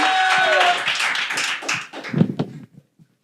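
An audience at a live music and spoken-word show applauds, a dense wash of many hands clapping that fades out over a few seconds, with some voices mixed in before it drops to silence.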